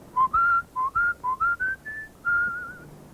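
A person whistles a short tune of about eight clear, melodic notes in quick succession, ending on a longer sustained note, close and distinct against a quiet background with no talking.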